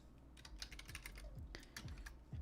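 Quiet clicking of keys on a computer keyboard, a quick irregular run of taps with small pauses between bursts, heard on its own without any voices.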